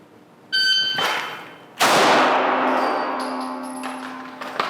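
A Smith & Wesson M&P 2.0 pistol fitted with a Surefire X300 light is drawn from a holster and fires a single shot at a target 25 yards away. A short tone comes first, then one sharp, loud report with a long ringing decay.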